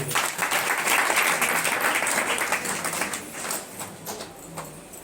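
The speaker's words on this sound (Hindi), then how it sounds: "तालियां बजाओ बेबी के लिए।" A church congregation at a Sunday service claps for a baby; a thick wash of applause runs throughout, loud and near at first and tapering gently toward the end.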